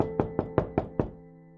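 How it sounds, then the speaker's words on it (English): Five evenly spaced knocks on a door, sharp and fairly loud, landing about every fifth of a second, then a quiet ringing tail. "Finally, a knock on the door."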